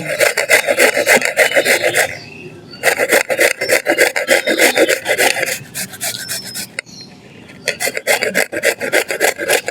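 A peeled mango is grated by hand, giving loud rhythmic rasping strokes in quick runs, broken by short pauses, close and with no talk.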